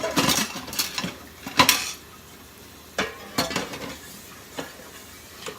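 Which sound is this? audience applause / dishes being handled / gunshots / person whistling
dishes being handled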